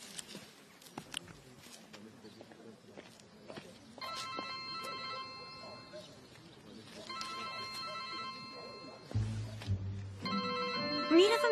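A mobile phone rings in a household while people talk, its electronic ringtone repeating in bursts across several seconds and becoming louder and clearer toward the end.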